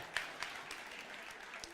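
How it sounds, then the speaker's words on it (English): Faint, scattered applause from a small audience at a talk on faith and acoustics, a few distinct claps over a quiet room lasting under two seconds. "give them a round of applause"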